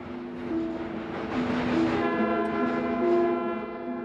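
A train rolls across the combined road and rail bridge linking China and North Korea, a steady rumble with sustained horn-like tones rising and falling throughout, fairly close and with no voices.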